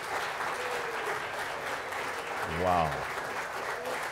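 A crowd at a race finish cheers and claps for runners receiving medals, a sustained burst of applause with one voice exclaiming over it.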